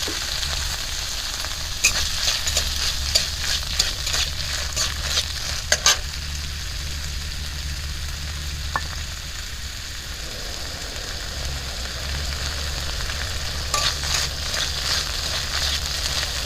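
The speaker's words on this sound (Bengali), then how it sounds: "এখন পনিরটা একটু নাড়াচাড়া করে নিচ্ছি হালকা করে।" Paneer stirs and fries with ghee in a pan, giving a continuous close sizzle broken by light scraping and occasional clicks of a spoon against the metal.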